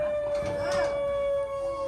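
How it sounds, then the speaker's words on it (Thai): A dog howls in one brief, rising and falling wail at middle distance, over a steady high tone that continues after it fades. "หมาหอน"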